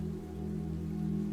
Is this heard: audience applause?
no